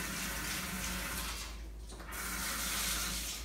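Fruit is rinsed under a running kitchen tap, a steady close rush of water that briefly dips in the middle before resuming.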